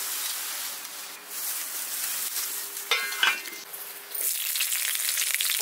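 Cumin seeds and two large red chilies sizzle in hot mustard oil for a rural-style chana dal tadka, a steady close frying hiss that swells as the spices drop in, with faint stirring clinks and no talk.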